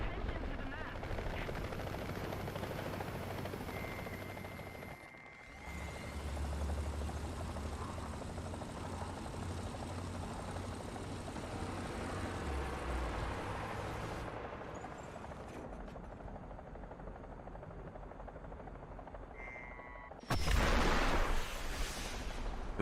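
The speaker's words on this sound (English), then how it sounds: "Fly, missile. Come on, missile." In War Thunder, a SIDAM 25 Mistral anti-aircraft vehicle keeps up a steady engine and combat drone, then a loud roaring burst like a missile launch comes near the end, with a voice talking over parts of it.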